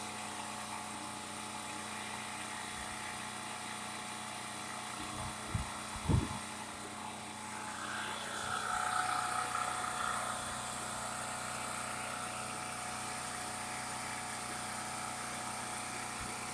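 A Champion 4000-watt portable generator runs steadily as its carburetor burns off the last of its fuel, a constant engine drone that holds throughout, with a few brief thumps partway through.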